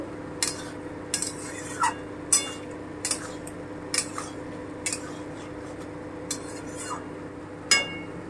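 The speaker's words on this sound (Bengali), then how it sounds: "সস দিয়ে আমি আর বেশিক্ষণ ফুটাবো না, জাস্ট একটু শুধু নেড়ে নেব।" A utensil stirs tomato sauce in a cooking pan, giving sparse, quiet clinks and scrapes against the metal at irregular intervals over a low steady background.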